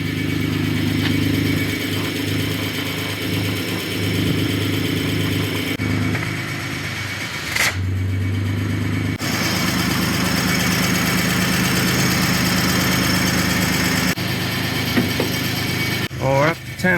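A 2000 Honda Passport engine, freshly reinstalled after a tune-up, runs steadily at idle with a continuous mid-pitched hum and brief changes in tone, close to the microphone with no talk over it.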